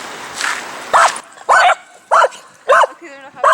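Dogs at a small dog park in Finland let out about five sharp, separate barks at a steady pace, fairly close and loud, with a soft murmur at the start.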